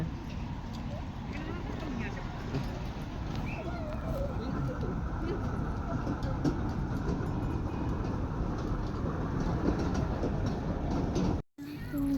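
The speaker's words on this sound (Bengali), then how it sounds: "ইকো পার্কের ভিতরে টয় ট্রেন যাচ্ছে।" A toy train runs through Eco Park in Kolkata with a continuous rhythmic rumbling clatter under a steady wash of crowd noise and people talking.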